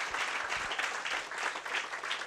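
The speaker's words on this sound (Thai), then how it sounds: "ขอเสียงปรบมือ" A crowd applauds warmly, with dense, steady clapping throughout a short burst.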